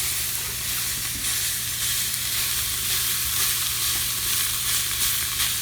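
Raw ground beef fries in a pan beside caramelized onions and sausage, giving a dense, continuous sizzle that stays close and even throughout, with no voices.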